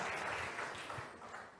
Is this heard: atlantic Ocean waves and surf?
no